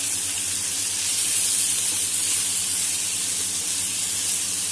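Finely hand-chopped onions hiss and sizzle loudly in a hot pan, a continuous bright frying spray with no talk over it.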